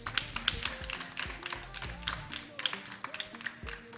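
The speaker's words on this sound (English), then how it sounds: "I want you to clap for yourselves." A group of kids claps for themselves after auditions, giving uneven, fairly soft bursts of hand claps under a steady sung or hummed tone and scattered voices.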